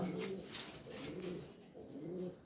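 A large female pigeon held in the hand coos up close in low, throaty phrases, repeating about three times in a gentle rolling rhythm.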